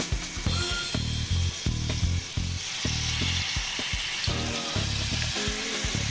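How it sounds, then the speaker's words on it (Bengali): Food frying in a pan in a home kitchen, a steady loud sizzle with crackling pops and stirring scrapes throughout, no voices. "এবার তুমি ভাজতে পারো, সাবধানে"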